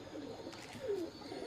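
A single soft coo comes from a pigeon in a loft of tournament long-flying birds in Bengal, faint and brief over quiet background hiss.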